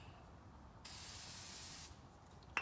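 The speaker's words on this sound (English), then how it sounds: "It's always good to spray down brake pads, just in case if they have anything on them." A single sustained spray of brake cleaner hisses onto brake pads for about a second against a quiet background, ending abruptly, followed by a faint click.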